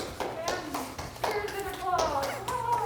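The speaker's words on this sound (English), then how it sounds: "and Michelle, thank you for clapping for me" Applause in a meeting setting for a keynote talk: a few scattered hand claps, close and sparse, with people talking over them.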